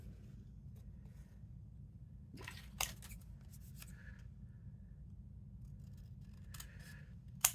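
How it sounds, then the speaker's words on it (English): Scissors cutting squares out of craft card: a few quick snips in two short bursts, faint and close, against a quiet background hum, with no talking. "Just got these 2 more of these squares to cut out."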